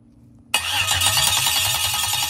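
A junkyard LS 5.3 V8 on a cheap engine run stand cranks briefly after a quiet moment, then catches abruptly and settles into a loud, steady, rough idle close by.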